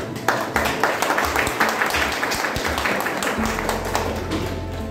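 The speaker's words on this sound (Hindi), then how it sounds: "प्लीज इन तीनों विद्यार्थियों के लिए मैं चाहूँगा कि एक बार प्लीज ताली बजा दीजिए।" An audience at a school award ceremony claps together for three medal-winning students, a steady dense patter of applause that carries on evenly throughout with no speech over it.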